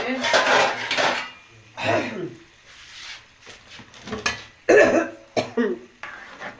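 Molokhia soup is ladled from a metal pot into a dish in a home kitchen, producing close clinks and scrapes of the ladle against the pot and dish, with a cough and bits of talk between the sounds.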